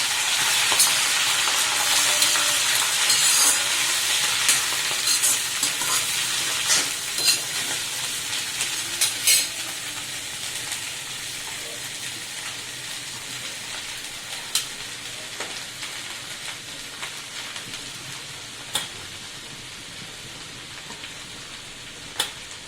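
Tender hollow pokala vegetable stalks and leaves frying in a pan for a Khandeshi bhaji, a continuous close sizzle with scattered crackles and pops that gradually quiets.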